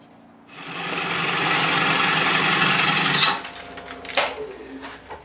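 Wood shavings peel off an urban lumber bowl spinning on a lathe, a steady loud rasping hiss for about three seconds, then brief scraping and tapping as the tool comes away.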